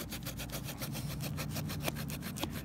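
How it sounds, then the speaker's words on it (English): A saw blade on a 25-in-1 axe multi-tool cuts through a tree limb 1 7/8 inches thick, making a close, steady, rasping stroke-by-stroke sawing rhythm with no voices. "I'm a little surprised it saws that deep down in there"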